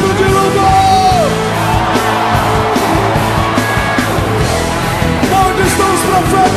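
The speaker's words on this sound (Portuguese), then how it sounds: "Quantos podem dar um grito de louvor?" A church congregation lets out a loud, sustained shout of praise, many voices yelling and whooping together over ringing music, the roar holding strong and close throughout.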